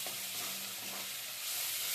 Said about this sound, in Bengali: আর একটু নেড়ে চেড়ে নেবো মশলাটা।